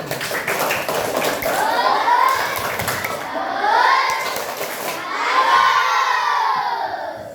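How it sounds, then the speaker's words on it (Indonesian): A crowd of children cheering and shouting with clapping mixed in, loud and sustained, rising in waves of excited voices. "Ya, tepuk tangan."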